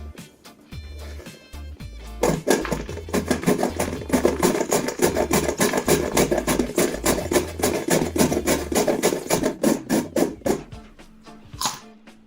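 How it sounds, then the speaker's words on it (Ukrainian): Carrots are grated through a kitchen grater attachment set on top of a container, giving a dense run of rapid rasping, scraping strokes with rhythmic thumps, close and fairly loud for about eight seconds. "Ну що, спробуємо натерти моркву."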